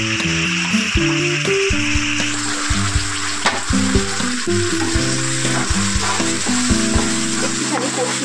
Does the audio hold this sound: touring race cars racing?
no